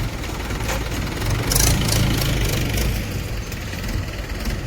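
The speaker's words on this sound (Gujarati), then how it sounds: "હે ભાઈ જાય છે ટ્રેક્ટર લઈને।" A tractor engine rumbles steadily nearby with a low, knocking idle that swells slightly in the middle as it moves past, alone without speech.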